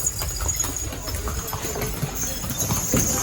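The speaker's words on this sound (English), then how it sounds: "Only horses allowed on the island." Horse hooves clip-clop on Gili Trawangan, an island where only horses are allowed, as a steady run of close, rhythmic footfalls goes on over a low, constant engine-like background hum.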